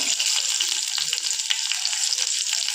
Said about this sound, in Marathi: आता आपण याच्यामध्ये अर्धा चमचा मोहरी टाकूया अर्धा चमचे जिरं टाकूया बारीक लसणाच्या पाकळ्या